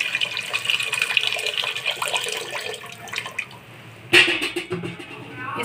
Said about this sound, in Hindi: अब इस पतीले के अंदर मैं 2 ग्लास पानी और डाल दूँगी।